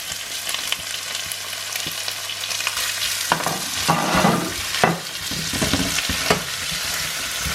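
Onion and tomato fry in a buttered pan, a loud continuous sizzle joined partway through by bursts of stirring and scraping as the tomato goes in, with no speech.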